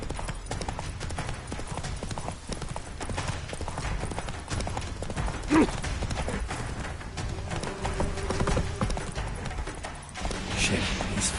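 Roach the horse galloping in The Witcher 3: Wild Hunt, a steady rapid clip-clop of hooves that runs throughout under game ambience, with a brief snort or whinny partway through.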